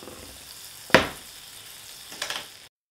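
Butter in a small pan with white bread rounds frying for a pineapple chili soup, a steady low sizzle with two sharper bursts of crackling, the first loud and close, the second softer.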